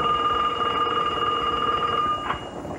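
A telephone rings steadily in a staged phone call, its bell tone sustained at moderate volume before cutting off near the end, with no talking.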